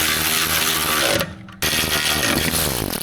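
Torque wrench tightening a bolt to 10 newton metres on a Land Rover AC fitting, with close mechanical ratcheting, a brief silent gap, then more rapid clicking.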